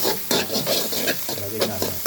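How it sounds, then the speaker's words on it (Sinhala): Garlic frying in a pan gives a close, continuous sizzle with a few stirring scrapes across a short stretch, no voices. "සුදු ලුණු ටික හොඳට බැදෙන්න"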